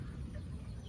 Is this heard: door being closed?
no